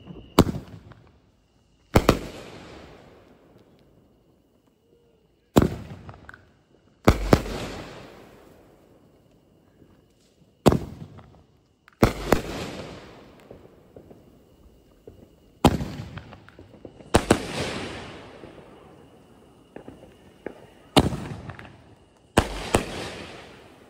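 Fireworks on the 4th of July burst one after another, about a dozen sharp, loud bangs spaced a second or several apart, each trailing off in crackling decay, with no talk.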